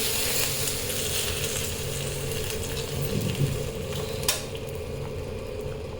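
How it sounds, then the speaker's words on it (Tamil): Mustard seeds, fenugreek and curry leaves fried in hot oil for a tempering, poured into a fish curry: a steady broadband sizzle and crackle runs throughout, with a brief sharp spatter near the end. "இந்த கடுகு வெந்தயம் கருவேப்பிலை இந்த மூணையும் பொரிச்சாச்சு இப்போ இந்த குழம்புல ஊற்ற போகிறோம்"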